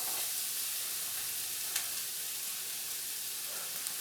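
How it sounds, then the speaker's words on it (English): Diced onion sizzles in a preheated pan as a steady, fairly quiet hiss, broken by a brief clack near the middle and a soft tap at the end. "Go ahead and put my diced onion in so I can saute it."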